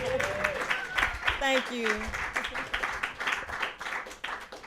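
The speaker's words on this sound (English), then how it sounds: "Y'all give it one more round of applause." Scattered audience clapping in a small room at a radio station live session, rhythmic and moderately loud, with a voice speaking and a few sung or spoken tones layered over the claps.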